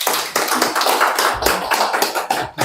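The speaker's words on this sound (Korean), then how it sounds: "그럼 박수로 맞이하겠습니다." Audience clapping to welcome a speaker at a book-launch lecture event, a dense patter of many hands in a hall, steady for a few seconds with slight swells and dips.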